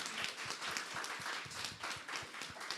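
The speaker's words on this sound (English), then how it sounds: "She definitely needs a round of applause." An audience at a panel discussion gives a round of applause, dense overlapping clapping that continues at a steady moderate level for a few seconds.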